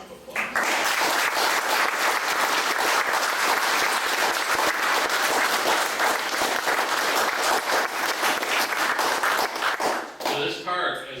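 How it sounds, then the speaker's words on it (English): Audience at a park grand opening for a restored freight house in Monroe County bursts into sustained loud clapping that holds for about ten seconds, then tapers off as a voice resumes. "So why don't we all give you a round of applause."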